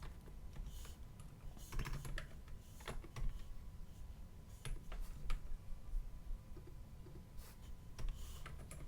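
Code being typed on a computer keyboard, with quiet irregular clicks and short bursts of keystrokes close to the microphone over soft room noise.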